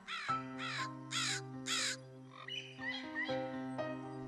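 A crow caws in a series of loud, harsh calls, four strong caws in steady rhythm followed by weaker croaking notes, close and clear over a sustained musical backing.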